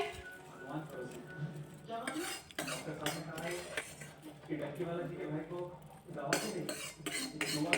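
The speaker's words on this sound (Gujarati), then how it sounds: "હવે આપણે વઘાર રેડશું અને આપણે મિક્સ કરતું જવાનું છે।" Spoon stirring Indori poha in a metal pot after the tempering is poured in, giving steady scraping and clinking of utensil against the pot, with a voice speaking over it throughout.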